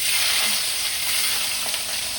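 Garlic sizzling and frying in hot oil in a pan for Kerala-style curry leaf pickle, a steady dense crackling hiss that stays loud and even throughout, with no voices.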